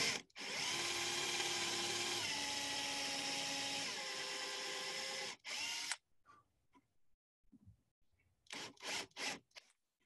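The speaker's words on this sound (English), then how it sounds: "I'm going to go ahead and drill these first two holes" An electric drill bores dowel holes in wood for a hand-cut dowel joint. It starts in reverse to score the surface, then gives a loud, steady whine for about five seconds with a drop in pitch, followed by short stop-start bursts.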